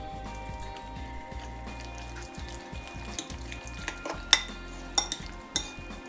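Goat cheese filling with garlic and nutmeg stirred in a bowl, soft scraping and clinking utensil taps over a low steady hum, fairly quiet with occasional sharper knocks.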